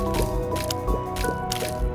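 Repeated wet, squishy water-drop attack sounds from The Binding of Isaac fire in quick bursts every few tenths of a second over steady droning game music.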